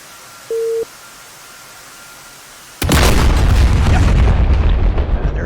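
A GBU-12 bomb explodes on an artillery piece in the DCS World flight sim: a short electronic tone, a quiet pause, then a sudden loud boom that rolls into a sustained rumbling roar.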